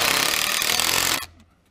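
A power driver sets a screw into a wooden pergola rafter, whirring steadily and loudly up close for about a second before cutting off abruptly into quiet.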